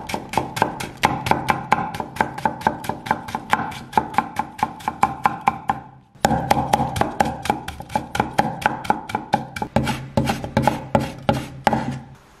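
A knife slicing and then shredding small home-grown green-skinned radish on a cutting board, fast, even chopping strokes close up and continuous, with a brief pause halfway before the rhythm resumes.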